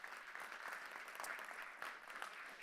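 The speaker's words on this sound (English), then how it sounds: "So if you'd like to give our panel a big round of applause to begin with," A conference audience at an electric mobility summit gives a panel a continuous round of applause, a dense, even patter of many hands heard faint and distant throughout.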